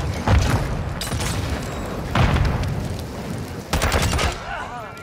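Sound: sniper rifle gunshots in a video game

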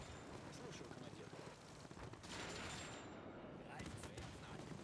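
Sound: anti-tank rifle fire in video game Men of War 2

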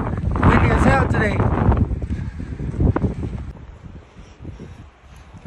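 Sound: strong wind blowing on a ridge

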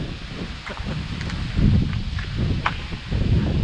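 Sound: wind blowing outdoors

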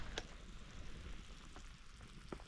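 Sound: pork ribs bubbling in a cauldron

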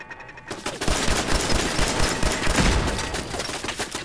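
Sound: gunfire in the video game Fallout 4

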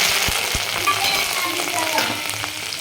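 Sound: cumin seeds and curry leaves sizzling in hot oil

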